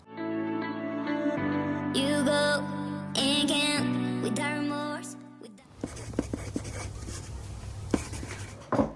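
A letter being written by hand: a pen scratches across paper in short strokes with small taps, following a stretch of music.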